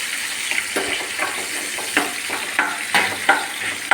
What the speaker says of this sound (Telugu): ఇవి బాగా ఫ్రై కావాలి.